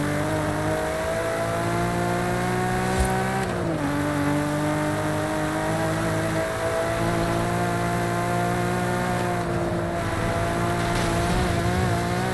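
A BMW M3 Competition in Forza Horizon 5 runs fast downhill with a steady, loud engine drone. Two brief dips in the note mark gear shifts, and there is no talk.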